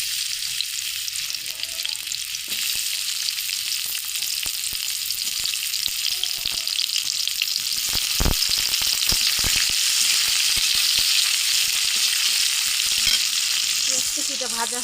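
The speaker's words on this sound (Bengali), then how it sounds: "আমরা এই যে পেঁয়াজ কুচি দিব" Chopped onions sizzle and fry loudly in hot oil in a wok, a dense steady hiss with scattered crackles and stirring scrapes.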